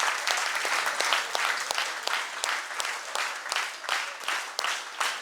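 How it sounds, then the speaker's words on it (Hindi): Audience applause at a yoga workshop in a college in Aligarh, loud, dense clapping sustained throughout with sharp individual claps standing out near the front. "उसके लिए भी जोरदार तालियां"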